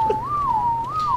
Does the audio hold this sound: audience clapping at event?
no